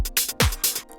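A tech house drum loop with a kick and a layered open hi-hat on the offbeats, short, punchy and close, with a few bright sizzling hits over the thump.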